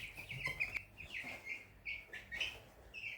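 Baby chicks in a brooder box peep in quick, high, repeated chirps, faint and close, with no talking.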